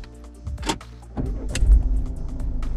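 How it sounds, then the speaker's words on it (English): A Citroen C5 Aircross diesel engine cranks from a push-button start and catches, settling into a low steady idle rumble close by. "we will start the car from the push button start right over here"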